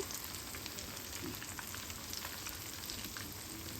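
Baby corn pieces dipped in bread-crumb powder deep fry in hot oil, giving a steady, fairly quiet crackling sizzle with no talk.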